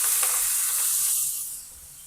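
Chopped fenugreek leaves hit a hot pan with chili powder and give off a loud, bright sizzle with a few crackly bursts, which quickly dies down to a quieter hiss within about two seconds.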